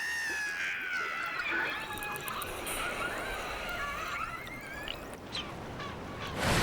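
A young female orca gives an alarm call to rally her pod as it hunts an elephant seal in the ocean: thin, high squealing whistles that waver and rise over a constant wash of rushing water, with no voices present.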